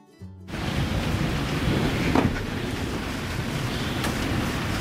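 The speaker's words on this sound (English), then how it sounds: "we're going to end it in the thunder and rain" Steady rain hisses loudly over a low rumble of thunder, with a brief crack near the middle and the noise continuing without letup throughout.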